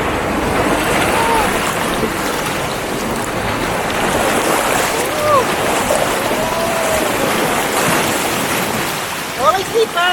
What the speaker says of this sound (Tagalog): Medyo malakas yung impact ng hangin ng alon-alon.